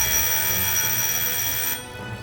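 A small electric buzzer bell powered at 6 volts rings as a continuous, loud, rapid metallic rattle that holds steady and then drops off sharply near the end.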